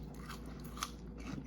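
Close, faint crunching from bites and chewing of crispy oven-baked French fries made with beef fat, with a sharper crunch in the middle and softer chews around it.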